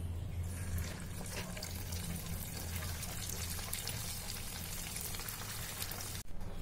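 Chicken Manchurian balls made with rice powder deep frying in oil in a kadai, a steady soft crackling sizzle that runs throughout at low level, with no talk.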